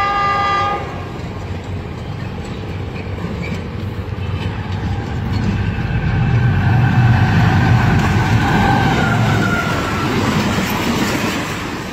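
The Jinnah Express speeds through Mian Channu railway station while overtaking the Tezgam, a loud, continuous rumble of rolling wheels and rail clatter swelling as it passes, with a sustained horn blaring over the noise.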